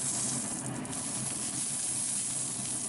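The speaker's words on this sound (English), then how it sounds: "to check that the frying pan is really hot, you're gonna sprinkle some water over it like this" Water sprinkled onto a hot frying pan hisses and sizzles in a loud, steady burst of steam, close up with no talk.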